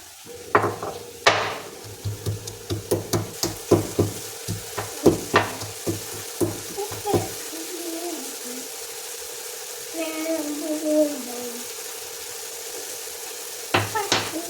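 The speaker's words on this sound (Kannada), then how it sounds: "ಇವಾಗ ಆಗ ಹುರಿದಿಟ್ಕೊಂಡಿದ್ವಲ್ಲ ಅದನ್ನು ಸ್ವಲ್ಪ ಗುದ್ದೋಣ." Roasted black pepper, garlic and cumin pounded in a kitchen, a series of sharp repeated thuds in an uneven rhythm, loud and close, followed by quieter sounds and a soft hum, with a few more strikes at the end.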